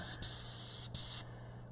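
Airbrush spraying red paint close to the surface, a steady bright hiss in two bursts separated by a brief gap, then cutting off; close and fairly loud with no voices.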